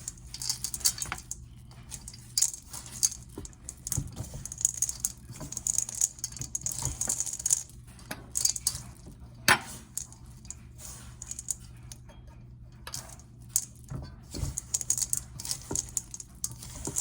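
Chocolate chip cookie dough for copycat Panera cookies is mixed in a bowl, giving quiet, irregular scraping, tapping and soft clatter of a utensil, with no talk.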